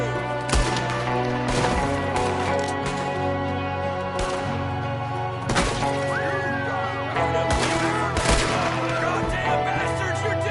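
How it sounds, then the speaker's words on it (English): Gunfire in a Red Dead Redemption 2 shootout, with several loud, sharp shots spaced a few seconds apart over a steady game soundtrack and ambient noise. "There's another one shooting from the window."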